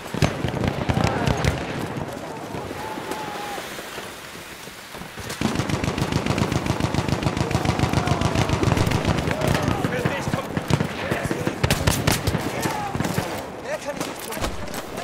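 Rapid bursts of automatic gunfire and scattered shots from a Battlefield 1 World War I multiplayer match, loud and dense, briefly thinning then pounding steadily again, with someone talking over it.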